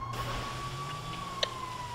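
A fire truck siren in GTA 5 wails with a steady rising tone, heard alone with low engine rumble beneath and a brief click near the middle.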